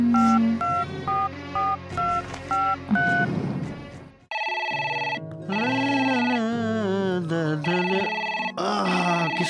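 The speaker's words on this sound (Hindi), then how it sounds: "किसका फोन आ गया?" A telephone in a Hindi film scene is heard first as a run of short dialing-style beeps, then as a louder, looping melodic electronic ringtone that plays on without voices.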